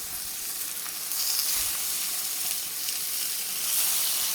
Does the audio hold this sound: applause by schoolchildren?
no